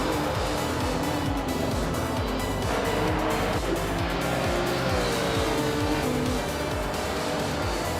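A Lotus Evora GX GT4 race car in a racing video game roars steadily and loudly throughout, engine note shifting slightly with faint tire noise, no talking over it.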